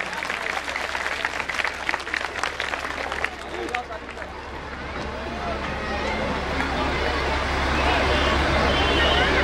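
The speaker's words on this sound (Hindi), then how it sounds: "जोरदार तालियां हो जाए।" An audience at a school annual function breaks into applause, a dense burst of clapping that thins out and gives way to crowd murmur and hubbub, with voices talking over it.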